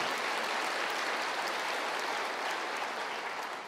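Steady applause from a large church congregation during a sermon fills the space, an even wash of clapping lasting a few seconds.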